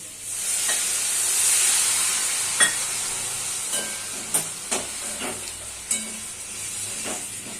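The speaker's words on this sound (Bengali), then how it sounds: "আমি এর মধ্যে ওই সর্ষে পেস্টটা দিয়ে দেবো" Mustard paste sizzles in a pan, a steady frying sizzle with a bright hiss, broken by a few sharp clicks and taps of a utensil against the pan.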